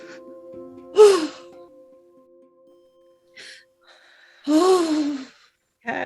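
Two slow, audible breaths drawn in during a guided energy-healing session, each a soft airy rush with a faint voiced edge, separated by quiet stretches, with a low steady tone underneath.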